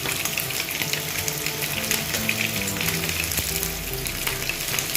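Mustard seeds crackle and sizzle in hot oil for a mackerel fish curry, a steady dense frying hiss with small popping bursts throughout, close and alone with no talk.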